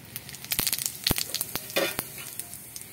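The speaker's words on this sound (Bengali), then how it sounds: "সেই তেলে আর একটু তেল দিয়ে আমি ওই কড়াইতে বসিয়ে দেবো। দিয়ে দেবো দুটো জিরে" Cumin seeds and a little extra oil sizzling in a hot wok after prawns have been fried in it, with crackling pops and short bursts of frying close up, no talking.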